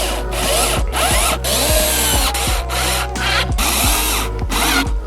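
Power drill driving screws back into a plastic air filter housing during a Skoda Fabia 1.2 TSI service, a steady whirring drone broken by short pauses and repeated pitch-falling bursts as each screw seats, close and loud.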